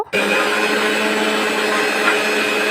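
A kitchen mixer machine whirring as it blends scraped mango pulp with a little water for mango lassi, switching on abruptly and then holding a loud, steady high-pitched motor drone to the end.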